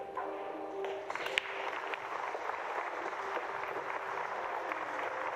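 Faint, distant applause rises from a crowd around another table at the 2023 European Open Pool Championship, a steady soft patter of clapping lasting a few seconds.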